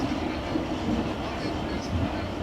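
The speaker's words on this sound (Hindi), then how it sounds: "इस वक्त मेरे सामने से आ रही है पेशावर और कोयटा के दरमियान चलने वाली पाकिस्तान की वाहिद ट्रेन" The 40 Down Jaffar Express, hauled by a GU20 locomotive between Peshawar and Quetta, rolls past close by in Pakistan with a steady, dense roar of wheels and carriages that holds level throughout, no talk over it.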